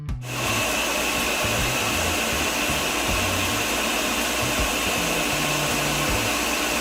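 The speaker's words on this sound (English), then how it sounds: "I put them into a blender." A blender whirs steadily as it purees bananas, oats and water for Jamaican banana oatmeal porridge, a loud continuous motor drone after a quick start, with no talk over it.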